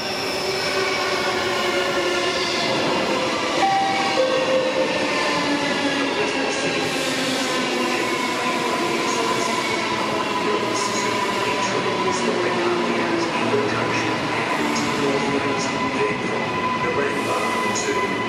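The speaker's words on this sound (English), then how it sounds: "is the Springfield Central train stopping all stations." A Springfield Central commuter train in a station, with a steady rumbling roll and faint squealing and clatter carrying on throughout, moderately loud and unbroken, with no clear speech over it.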